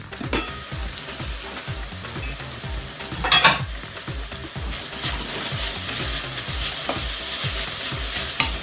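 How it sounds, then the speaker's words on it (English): Bacon frying for a creamy carbonara, crackling and sizzling steadily up close while a utensil stirs and scrapes the pan in a repeated rhythm. "we need to cook well the bacon"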